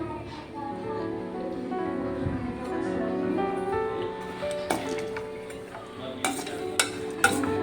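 Dried coconut pieces fry in a pan for a traditional home-style dish, giving a soft, steady sizzle. A spoon stirs and clinks against the pan several times, sharper toward the end, and a voice can be heard in the background.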